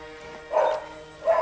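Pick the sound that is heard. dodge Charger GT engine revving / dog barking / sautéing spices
dog barking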